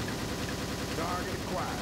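Sustained gunfire crackles through an Army Men real-time strategy battle, a dense, continuous rattle at moderate level with radio-style voice chatter mixed in.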